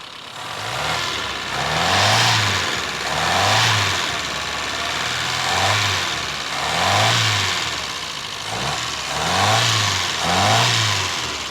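The engine of a 1973 Toyota Hilux runs close by after starting, rumbling at a rough idle with a slow, rhythmic rise and fall roughly every one and a half seconds, loud and steady throughout.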